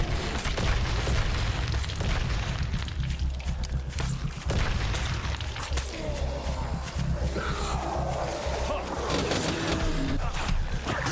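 Explosions in the video game Night of the Dead roar as a dense, continuous wall of booming rumble and crackle, loud and close, with a deep low rumble running throughout.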